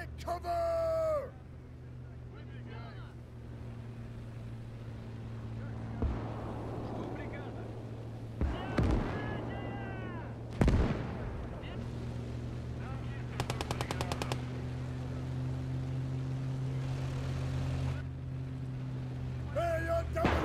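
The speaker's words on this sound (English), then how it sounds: "Artillery strike!" Artillery strike in a combat video game: heavy booming explosions land at intervals among bursts of machine-gun fire and a low engine drone, with voices shouting in between.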